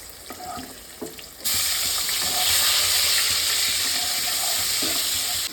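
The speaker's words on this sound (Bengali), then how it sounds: "উচ্ছেটা আমি ভাজতে দিয়েছি" Bitter gourd slices drop into hot oil with a sudden loud, steady sizzle that carries on at full strength after a few quieter clinks and scrapes in a home kitchen.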